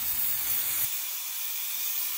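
A kitchen pressure cooker releases a loud, continuous hiss of steam, steady and close for the whole stretch, heard alone.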